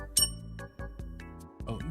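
A small desk bell rings several times in quick succession, with bright, sustained metallic dings that fade between strikes, close to the microphone.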